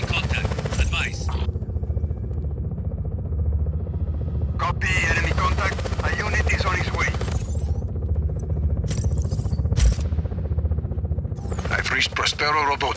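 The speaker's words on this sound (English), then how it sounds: "Enemies in a helicopter." An enemy helicopter in Just Cause 4 sends a steady, throbbing rotor drone under the whole scene. Radio chatter and other voices talk over it, with brief bursts of gunfire and clatter.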